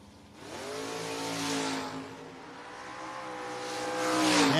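Drag racing cars launching, including a Dodge Hellcat, at a No-Box 660 Shootout: a loud, rising engine roar that builds and swells across the run, heard alone.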